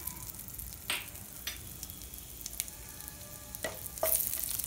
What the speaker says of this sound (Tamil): நம்ம தாளிக்கிறதுக்கு எடுத்து வச்சுக்கூடிய பட்டை, சோம்பு, கிராம்பு, ஏலக்காய் எல்லாமே போட்டுடலாம்.